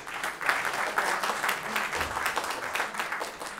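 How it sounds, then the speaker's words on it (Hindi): An audience at a stage play bursts into loud, sustained applause, dense clapping swelling and rippling across the room for several seconds. "अपना उत्तरदायित्व का निर्वहन करें और जोरदार तालियां बजाएं"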